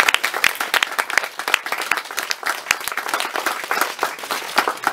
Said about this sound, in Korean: 와, 박수 박수.